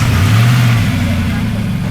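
Nissan Patrol 4WD driving up to hook onto a caravan on a rough outback track, a loud, close, low engine drone that holds steady throughout while a person talks over it.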